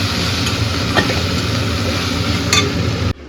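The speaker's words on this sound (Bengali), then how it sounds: "এখানে হচ্ছে ভেন্ডি ভাজা" Steady, dense sizzling of okra frying in a pan, with a couple of brief louder crackles, cutting off abruptly near the end.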